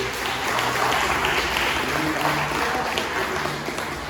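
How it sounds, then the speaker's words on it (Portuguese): A church congregation claps during a sermon, a continuous, even spread of applause with a faint low hum beneath it and no talking on top. "você pode aplaudir o Senhor por isso"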